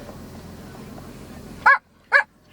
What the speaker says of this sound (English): giving me directions with the barking